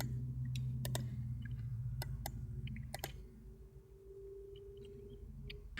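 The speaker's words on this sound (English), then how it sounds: "I'm just clicking to put in these steps, and I can right click to remove them" A computer mouse clicks sharply and close by as steps are entered in FL Studio, with scattered single clicks and quick pairs over a low steady hum.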